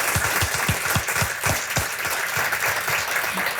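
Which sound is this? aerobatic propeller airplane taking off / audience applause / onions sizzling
audience applause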